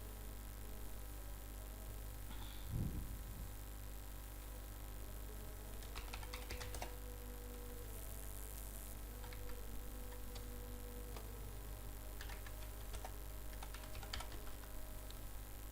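A phone number is keyed in on a computer keyboard, heard as a few faint, scattered clicks and short bursts of taps against a steady low hum in a quiet room.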